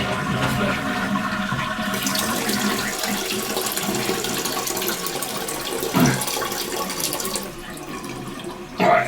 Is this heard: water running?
yes